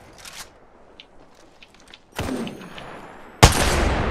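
Gunfire in the Apex Legends battle royale game: a few faint scattered shots early on, then a louder burst of firing around the middle and a sharp, loud volley near the end.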